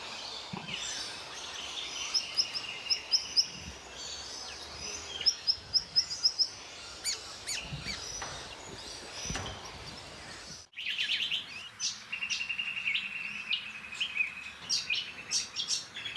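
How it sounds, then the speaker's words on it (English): A small honeyeater with a black cap, white throat and white band behind the eye calls in forest, repeated bright chirps and rapid trills in short bursts, fairly close and clear against quiet background. "Small honeyeater with black cap, white throat and a white band behind the eye."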